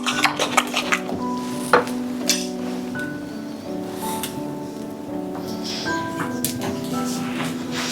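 A spoon stirs a pumpkin cream risotto mixture in a pot, giving close scraping and soft clinks that are sharper at first and then settle into a steady stir.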